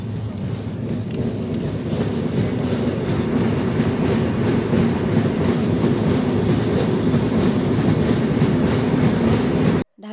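A passenger train on the Dhaka to Kushtia line, passing beneath the Padma Bridge, rumbles steadily and loudly with a continuous low roar and faint rail clatter throughout, with no talk, before a brief dropout at the very end.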